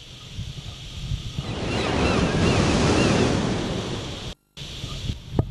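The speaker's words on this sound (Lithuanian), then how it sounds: "mėgstu pasidėti ant molo ir pažiūrėti banguojančią jūrą" Sea waves wash against a pier, a surging roar that swells and fades with gusty wind buffeting the microphone and a brief cut in the sound.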